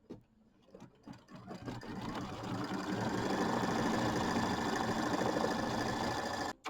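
Sewing machine quilting loops on a small Kimberbell mini quilt, a steady continuous motor hum that starts up after a second of quiet and runs evenly until a sudden stop near the end.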